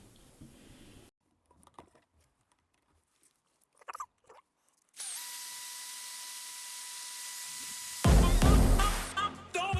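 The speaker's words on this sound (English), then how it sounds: "I'll grind that end a little bit" A handheld power tool whines steadily as it grinds the end of a carved inset butterfly hinge for a Moroccan door. The motor holds a constant high tone, then bursts into a louder, rough grinding before stopping, with brief scattered taps earlier.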